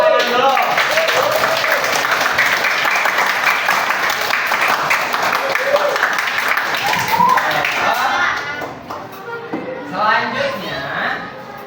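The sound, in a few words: applause from a class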